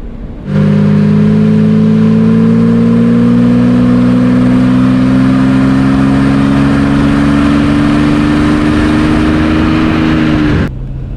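A 1972 Jaguar E-Type V12 coupé with a 5.3-litre V12 accelerating on the road, its smooth engine note rising steadily in pitch for about ten seconds, loud and close, with no talk over it.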